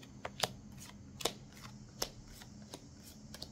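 A deck of tarot or oracle cards being shuffled and handled during a card reading, with several sharp riffling snaps and soft slides standing out over a quiet low hum.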